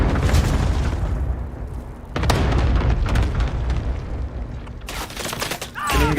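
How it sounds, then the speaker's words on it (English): Cluster strike explosions in the video game Call of Duty: Black Ops Cold War, a dense chain of booming blasts and crackling bursts rolling over several seconds, loud and close, with sharp fresh impacts partway through. "Allied cluster strike incoming."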